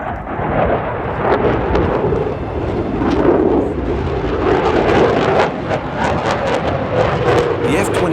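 A Lockheed F-22 Raptor stealth fighter performs at the 2023 Australian International Airshow, its jet engines producing a loud, steady roar that fills the whole stretch with only slight swells and no break.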